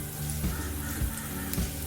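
Three dried red chillies sizzle in hot oil in a pan while cooking a quick curd curry, a steady close frying crackle with a few soft pops throughout.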